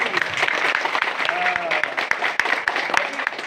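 A crowd claps and applauds steadily for a few seconds, with scattered sharp individual claps and some voices mixed in.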